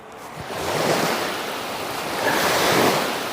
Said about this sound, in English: I don't know if you can hear us over the wind noise.